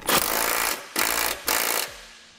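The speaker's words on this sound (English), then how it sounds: "We'll take a 3/4 inch socket. We're gonna tighten our large bolt underneath the vehicle." A power tool with a 3/4 inch socket tightens a large bolt under a 2018 Ford during a running-board install. It fires in three loud, close bursts, the first the longest, separated by short gaps.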